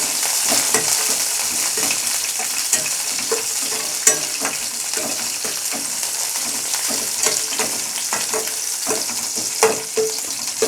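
Crushed garlic and ginger sautéing in hot oil in a pan, a loud continuous sizzle broken by frequent scraping and clicking stirring strokes, with no voices.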